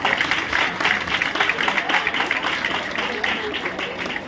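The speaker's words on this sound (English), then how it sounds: "Let's give them a round of applause" A crowd applauds dance competition winners standing on stage at an evening event at a residency, with dense, steady clapping throughout and voices mixed into it.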